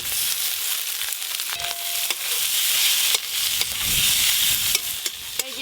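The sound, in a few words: spiced mushrooms frying and being stirred in pan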